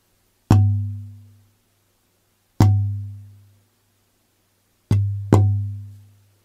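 Knuckle taps on a vintage A-grade Sitka spruce guitar top, four resonant knocks with a low ringing body tone, the last two close together, each decaying over about a second.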